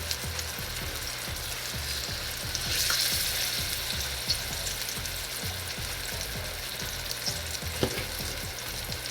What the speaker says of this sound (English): the loins to it and wait for the sizzle, baby, the sizzle.